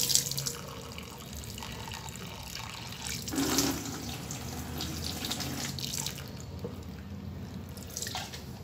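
Water is poured from above onto cactus seeds (tuna/nopal) set out for germination, giving a steady splashing, trickling wash with a brighter splash midway, close by and continuous.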